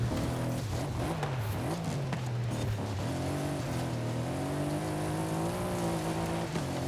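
A Bentley Bentayga with upgraded intake and exhaust revs in Forza Horizon, a loud, continuous engine drone whose pitch dips and climbs steadily throughout with no talk.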